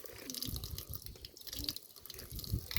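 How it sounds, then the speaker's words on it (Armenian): Water trickling and splashing from a drinking fountain by a church, a faint, close, continuous flow with small drips, no talking. "գնանք ցայտաղբյուրի մոտ"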